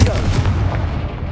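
A Confringo spell blast from Hogwarts Legacy sounds as one short, heavy booming explosion that decays over about a second.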